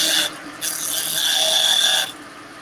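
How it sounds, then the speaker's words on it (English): A skew chisel cuts a wooden leg on a spinning lathe, squaring the pommel, giving a bright, steady scraping hiss with a brief gap before the cut resumes and runs close and loud for over a second. "You do that with a skew chisel."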